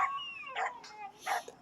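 Several dogs in a kennel yard, with one drawn-out howl-like whine and short yips and barks breaking in at intervals, moderately near and on their own.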